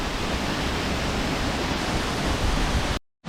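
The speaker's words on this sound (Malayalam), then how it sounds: "ഈ ചേട്ടൻ നമുക്കിത് കാണിച്ചു തരാമെന്ന് പറഞ്ഞിട്ട് ഉരക്കുഴി വെള്ളച്ചാട്ടം" Urakkuzhi waterfall at Kakkayam, Kerala, roaring as a dense, steady rush of falling water, loud and near, then cutting off abruptly into silence near the end.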